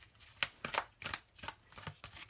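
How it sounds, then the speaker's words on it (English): An oracle card deck is shuffled vertically by hand, producing a series of about six crisp, quiet riffling bursts in a steady rhythm, close up with no talking. "I'm going to show you shuffling vertically."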